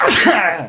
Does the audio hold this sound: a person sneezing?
yes